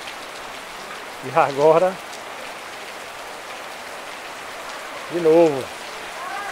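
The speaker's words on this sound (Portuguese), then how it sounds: "Aqui chove todos os dias." Steady rain falling on a farm in Abadia, a dense, even hiss of drops on surfaces throughout, with someone speaking briefly twice over it.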